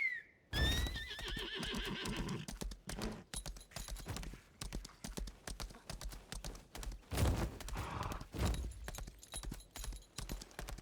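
A game horse whinnies near the start, then hooves clip-clop steadily at a trot, with occasional clanks and effects layered over the rhythm.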